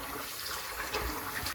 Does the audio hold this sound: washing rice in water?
yes